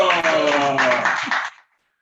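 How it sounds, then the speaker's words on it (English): Audience applause at a Toastmasters club demo meeting welcomes a speaker, steady clapping mixed with voices for about a second and a half before cutting off sharply. "Please put your hands together for Toastmaster Abubakar Gimba"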